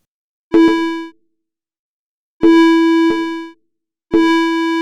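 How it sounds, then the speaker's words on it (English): Swiss synthesizer oscillator tones, three separate bright harmonic notes, each sounding about half a second to a second with quick reverb-like tails and silence between them, loud and alone. "We can play a sound from oscillator 1 listening to the wet signal of the reverb and also the dry signal of oscillator 2 with no reverb."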